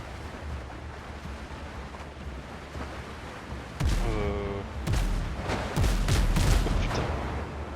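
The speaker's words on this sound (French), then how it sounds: "Il me tire dessus!" Gunfire in the video game Windrose: a few sharp, loud shots burst in the second half over a constant windy, surf-like game ambience, with no voices.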